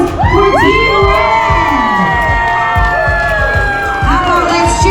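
Loud crowd on a Norwegian Encore cruise ship cheering and whooping for Team Blue in an atrium, a steady wall of shouts with children's squeals rising and falling, plus rhythmic clapping or stomping beneath.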